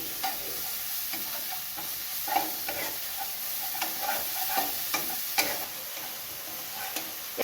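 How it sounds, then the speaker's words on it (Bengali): Spice paste of garlic, cumin, chili and turmeric frying in a pan for a fish curry, with a steady sizzle broken by frequent scraping and stirring ticks from a utensil, close and continuous. "মশলাটা ভুনা করে নেব, কষিয়ে নেব"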